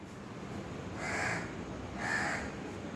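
Crows outdoors give two distinct, moderately distant caws about a second apart over a quiet background.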